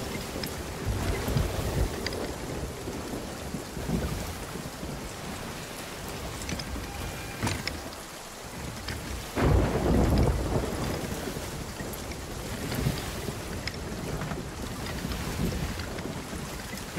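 Stormy open sea in the Sea of Thieves video game: rain hammers down steadily over rushing wind and waves, while deep thunder rumbles and swells loudly near the middle, with no talking over the dense, continuous roar.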